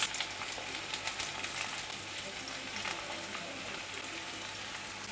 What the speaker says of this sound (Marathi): पहिल्यांदा आपण यामध्ये कांदा आणि खोबरं घालूया आणि सोनेरी रंगावर आपल्याला परतून घ्यायचं आहे.